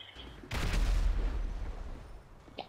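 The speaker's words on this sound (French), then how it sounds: "est-ce que la station essence elle explose?" A gas station explodes in GTA 5 with a sudden deep, rumbling boom that rolls on and slowly fades, followed by a small sharp crack at the end.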